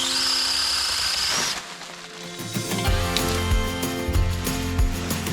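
A Troozy 6-inch battery mini chainsaw cuts into tree branches, a high buzzing whine running steadily for about a second and a half before breaking into uneven, rhythmic cutting bursts close to the listener.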